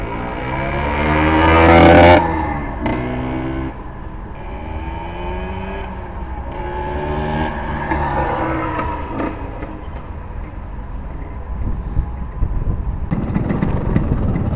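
A Vespa scooter, with a bearing fitted in place of its brass clutch boss, is ridden on a test run. Its engine revs loudly near the start, then settles into a steady drone with shifting pitch, and rises again toward the end.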